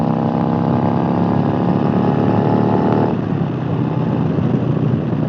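A 2021 Harley-Davidson Road Glide Special rolls on the throttle merging onto a highway, its engine a loud, steady, continuous drone with a tonal hum that smooths out partway through, heard close up with wind.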